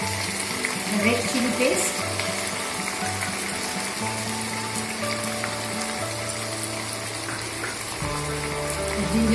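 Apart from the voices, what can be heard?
onion paste sizzling as it is added to browned onions in a pan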